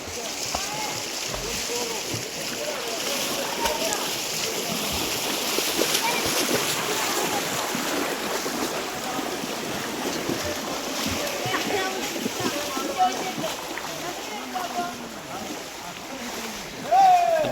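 A boat moves through floodwater along a flooded road in Keeramkundu, bringing out workers stranded in quarters, with steady broadband water wash and splashing throughout and voices talking over it.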